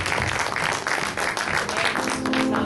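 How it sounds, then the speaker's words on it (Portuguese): A church congregation gives loud, sustained applause during a worship service, the dense clapping continuing steadily throughout with no gaps. "Uma salva de palmas bem forte para Jesus"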